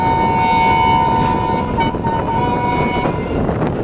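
The Shah Hussain Express, a Pakistani passenger train led by locomotive 9053, pulls away from Nawabshah: a loud steady rumble of wheels and rolling stock with a sustained horn tone and faint rail clatter, heard close by.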